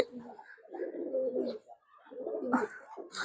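Pigeons coo in low, throaty bursts, two longer rolling phrases separated by a short pause, fairly close and with no talking.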